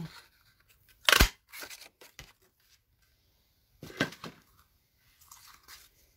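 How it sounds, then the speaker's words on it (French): A handheld craft punch cutting small shapes from paper for a Christmas gift card: a sharp crunching snap, then a few softer clicks and rustles, and a second cluster of crisp punching sounds later, close and alone. "Avec une autre perforatrice, je vais faire des petits..."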